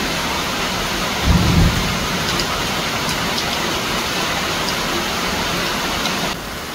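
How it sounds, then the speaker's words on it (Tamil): Heavy rain pours down outside, a dense and constant hiss, with a deep roll of thunder breaking through early on before the steady downpour carries on alone. "வெளியில் ஜோராக மழை பெஞ்சிட்டு இருக்கிறதால"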